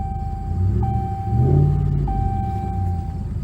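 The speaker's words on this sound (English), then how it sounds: "Now this truck has a great sound to it." A 2014 RAM 1500 Express four-wheel-drive pickup truck engine idles with a steady low rumble, a faint high tone running above it, no talking.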